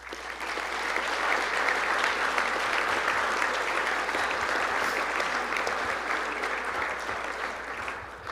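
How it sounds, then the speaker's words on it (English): Sustained applause from a banquet audience at a college football awards dinner, steady and dense throughout, filling the room without pause. "give them a round of applause"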